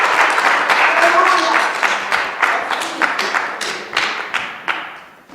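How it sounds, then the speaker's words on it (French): Church congregation applauding, a dense burst of clapping that starts loud and gradually thins out into scattered claps, with a voice speaking over it. "Applaudissons le Seigneur."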